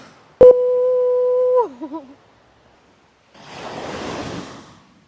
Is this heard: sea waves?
yes